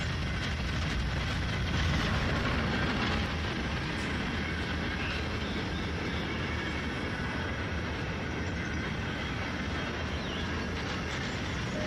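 A diesel locomotive hauls a local freight train on the CSX A-Line in the Run 8 train simulator, a steady broadband rumble of engine and rolling wheels that stays constant and moderately loud throughout.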